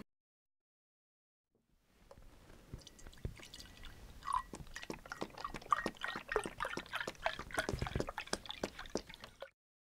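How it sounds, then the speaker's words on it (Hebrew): Water fills a vessel in a quick, irregular stream of splashes and drips that starts after about two seconds of silence and stops abruptly near the end, fairly quiet throughout. "מילא את הכלי מים."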